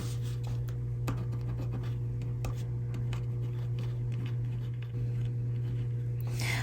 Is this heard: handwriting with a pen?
yes